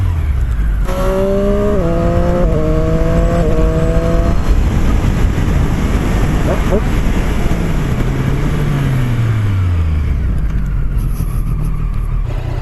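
A Triumph Street Triple 765 RS three-cylinder roadster engine revs loudly through gear changes while ridden on winding roads, rising in pitch through several shifts, then settling into a steady throaty drone with a long falling deceleration.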